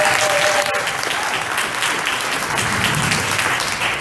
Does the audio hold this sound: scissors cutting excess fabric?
no